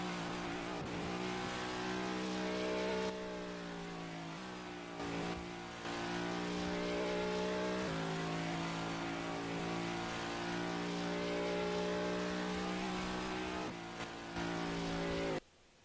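A race car engine at Watkins Glen drones loudly through sustained high revs, with several gear shifts and brief lifts before it cuts off near the end.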